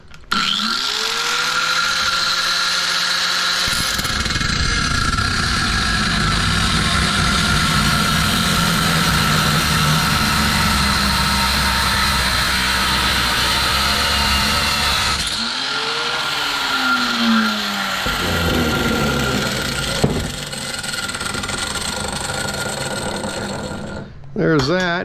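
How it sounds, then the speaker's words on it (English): An angle grinder cuts through a scrap sump pump, a loud, steady high-pitched whine held close for most of the stretch, with a brief dip in the middle before it resumes. "that grinder was going"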